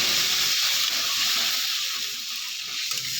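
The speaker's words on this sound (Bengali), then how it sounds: "এবার আমি জল দিয়ে দেবো।" Water hits a hot pan of potato and pointed gourd curry, producing a loud, continuous hiss and sizzle that holds steady and eases slightly toward the end.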